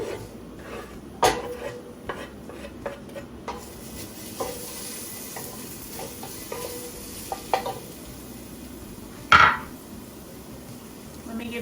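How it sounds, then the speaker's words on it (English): Peppers and onions cooking in olive oil in a pan, a soft steady sizzle broken by sharp clinks and scrapes of a utensil against the pan, one louder knock late on. "I'm gonna add in the peppers and onions."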